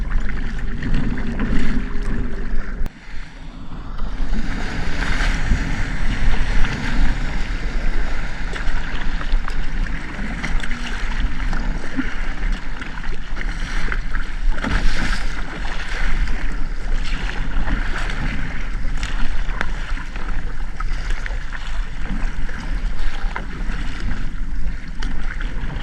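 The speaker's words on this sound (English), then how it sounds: "I'm going to paddle over there" Kayak paddle strokes splash and swish through the water near Key Largo, with a steady wash of wind and lapping water around the boat continuing throughout.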